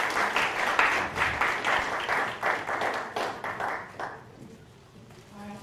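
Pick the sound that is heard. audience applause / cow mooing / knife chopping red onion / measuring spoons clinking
audience applause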